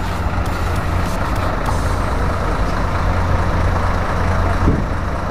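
A Setia Negara intercity bus engine idles close by, a loud, steady low rumble with a constant mechanical hum and faint hissing above it, unbroken for the whole stretch.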